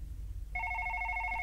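A telephone rings in a horror video game set in an office at night, starting suddenly after a moment of low background hum, then continuing as a steady, loud electronic trill.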